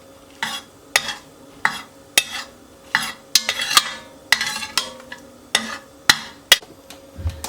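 Coconut milk powder stirred and sautéed in hot oil in a pan for a Konkani-style fish curry, with a steady series of spoon scrapes and clanks against the metal vessel over a soft sizzle, close and fairly loud.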